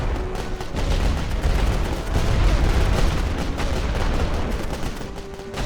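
Machine gun fire from an MG nest in the Great War Western Front video game, a dense continuous rattle of gunfire with booming battle noise, loud throughout.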